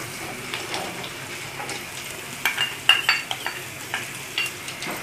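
Peanuts and ginger pieces fry in a pan for a lemon rice tempering, giving a soft, steady sizzle under scattered clinks and scrapes of a spoon stirring. A few sharper taps cluster near the middle.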